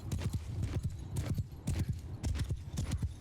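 Cavalry horses galloping in the Mount & Blade II: Bannerlord video game, a loud, dense, fast clatter of many hooves in continuous rolling rhythm across the whole stretch.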